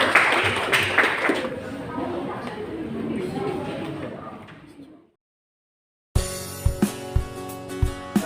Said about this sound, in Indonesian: tepuk tangan untuk kelompoknya Mbak Celsa